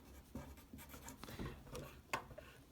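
A pen writing out an inverse function on paper, soft close scratching strokes with small taps, quiet and alone.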